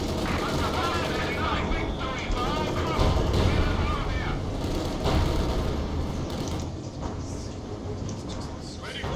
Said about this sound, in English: they're spamming howitzers. Again, another artillery strike